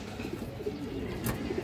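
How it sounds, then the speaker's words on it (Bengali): Low, soft cooing from pigeons, including female Bangladeshi fancy breeds, murmurs steadily through the whole short stretch with faint background hum and no voices. "খুবই সুন্দর কবুতর দর্শক"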